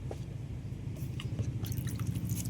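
Ginger and green chillies are ground into a paste, giving close, wet squishing and crushing sounds in a quick, uneven rhythm. The grinding is faint and carries no talk.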